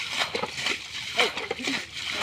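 Water sloshes and splashes in intermittent scoops as it is bailed out and poured away, with people talking over it.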